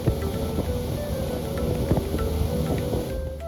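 A speedboat crosses the Bay of Bengal from Kumira ghat to Sandwip island with a steady droning engine, heavy wind buffeting and rushing water that hold at a constant level throughout, and no speech.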